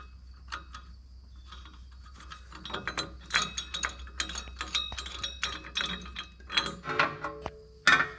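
Nuts are tightened on the lower axle cup mounting bolts while airbags are fitted to a 2021 Ford F-350 Tremor pickup. Clicking ratchet strokes come in quick bursts, close and fairly loud, with no talk.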